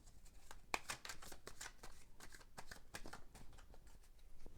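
Oracle and tarot cards being shuffled and handled on a table, a soft, quiet run of repeated riffling flicks and slides.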